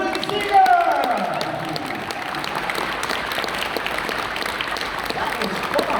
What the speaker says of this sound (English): let's give a big round of applause for Julian Seager!